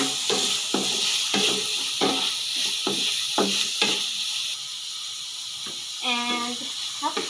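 Pork adobo with camote tops being stirred in a pan, a repeated scraping and sizzling rhythm of a utensil moving through the food, with a voice speaking briefly near the end.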